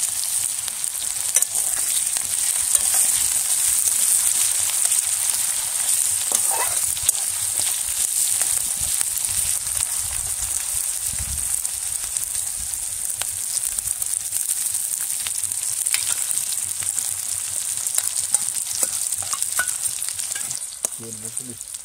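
Onion and garlic frying in oil in a pan, with a continuous loud crackling sizzle and a few stirring scrapes.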